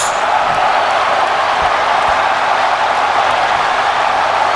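A steady crowd roar fills a WWE 2K19 wrestling arena, loud and continuous without pause, with a few faint thuds beneath the constant cheering.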